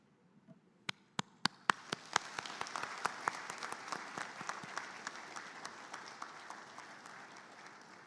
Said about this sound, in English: give a good round of applause to your parents in appreciation of their unwavering support and commitment